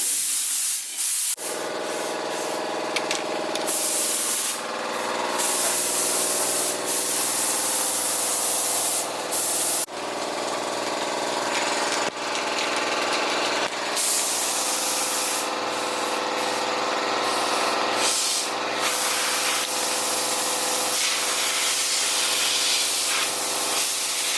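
Primer hisses steadily from a spray can across the engine bay of a turbo Honda Civic, a loud continuous spray with brief pauses and short bursts toward the end, no voices.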